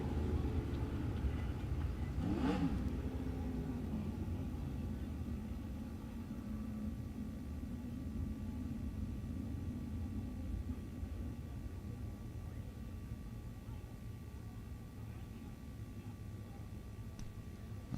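410 sprint cars racing at Grays Harbor Speedway, a distant, steady engine roar and rumble carrying across the track, with a brief louder surge early on and no talking.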